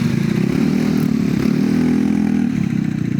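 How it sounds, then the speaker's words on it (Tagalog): Vespa S125 scooter fitted with a Termignoni exhaust revving, a loud, continuous low buzzing engine drone close by, steady throughout with slight swells. "Grabe ang ingay pala ng Termioni, no?"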